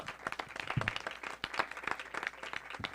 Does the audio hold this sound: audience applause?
yes